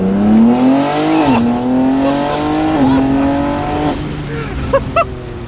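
A BMW G80 with an S58 engine revs hard up close, its loud, sustained exhaust note rising and falling in several swells, ending with a few short sharp pops.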